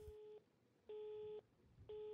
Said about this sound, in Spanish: El teléfono comunica.